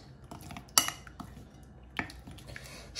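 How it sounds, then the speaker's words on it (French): Utensil stirring KFC-style chicken coating mix in a bowl, with scattered clinks and scrapes against the dish and two sharper knocks, close and moderately loud, no talking. "Je mélange bien l'ensemble pour éviter les morceaux."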